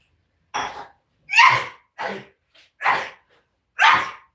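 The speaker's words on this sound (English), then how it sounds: "Oh, I sneezed." A person sneezes five short, sharp times in a quiet indoor room, with brief silent gaps between the bursts.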